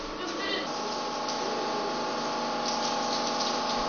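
A shower runs in a continuous, even stream of gushing water, holding steady throughout while a voice talks faintly over it.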